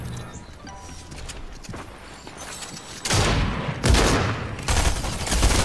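Loud, dense bursts of gunfire ring out in an online shooter game, with sustained rapid fire coming in several heavy volleys close by.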